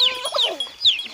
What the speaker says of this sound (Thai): อันนี้เป็ดกับไก่เรา